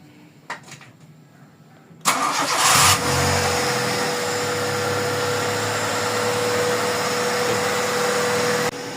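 The engine of a 1986 Honda Civic with an overheating problem starts abruptly after a few faint clicks. It gives one sharp rev, then settles into a loud, steady running hum with a constant high whine until it cuts off near the end.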